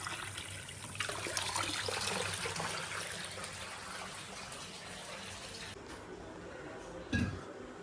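Well water pumped up by a motor pours out in a steady, broad rushing flow, fairly faint and continuous. A brief splash or knock sounds near the end.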